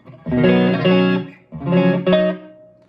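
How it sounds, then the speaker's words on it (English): Two short electric guitar phrases through a 15-watt Luna prototype amp ring out clean, with the amp's reverb set low leaving a faint tail trailing each note. "So very slight reverb"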